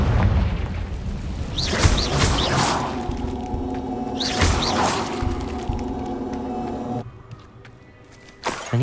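Confringo spell explosions in the Hogwarts Legacy video game: repeated booming blasts with whooshing bursts over a continuous rumbling game soundscape, quieting near the end before another hit.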